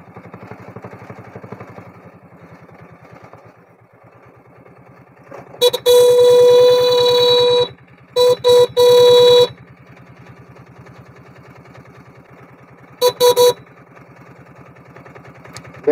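At a rice mill gate, a car horn blares in several loud blasts: one long honk, two shorter ones, then a brief pair later, over the steady near rumble of an idling engine.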